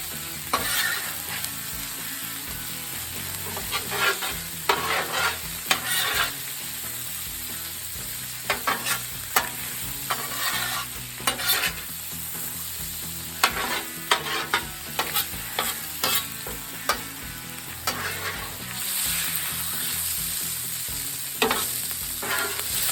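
Venison frying on a Blackstone griddle, a steady loud sizzle punctuated by repeated scraping and scooping clacks of a spatula against the hot flat-top.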